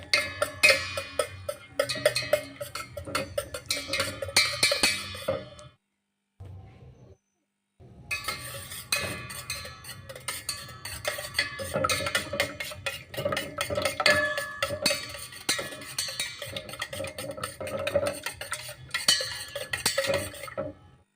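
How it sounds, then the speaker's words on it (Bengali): Two eggs being beaten in a bowl for a homemade chocolate cake: a steady, rapid clinking and tapping of utensil against the bowl, close and fairly loud, with a brief pause near the middle before the rhythm resumes. "প্রথমে একটা বাটিতে দুটো ডিম নিয়ে নিয়েছি ভালো করে ফেটিয়ে নিতে হবে"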